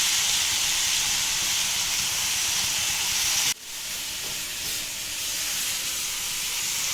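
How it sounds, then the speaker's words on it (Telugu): Tomato and turmeric frying in a pan give a steady, loud sizzling hiss that runs throughout, briefly dropping and thinning partway through before continuing at a slightly lower level. "తర్వాత కొంచెం పసుపు, టమాటా అంతా బాగా మగ్గేంత వరకు బాగా ఫ్రై చేసుకోవాలి."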